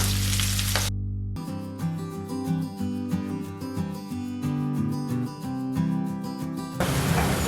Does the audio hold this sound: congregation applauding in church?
no